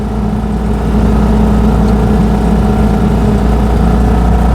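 A 1959 BMW Isetta 300 microcar engine revs hard while driving on a country road, a steady, loud, buzzing drone that holds close and constant throughout with no talking.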